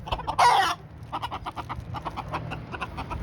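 Backyard chickens fighting over a mouse cluck in soft, scattered bursts nearby, with one louder squawk near the start and low rustling beneath.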